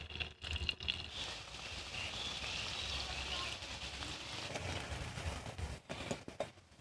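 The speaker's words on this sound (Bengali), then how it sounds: "এবার পকোড়াগুলো ভেজে নেব, গোল গোল করে ছেড়ে দেব।" Pumpkin flower pakoras frying in hot oil in a kadai, a dense continuous bubbling hiss that stays loud and even throughout, with faint clatter near the end.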